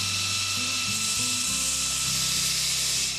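A knife blade's bevel being ground on a 3-inch grinding wheel, a steady loud abrasive whine with shifting low motor tones running continuously throughout.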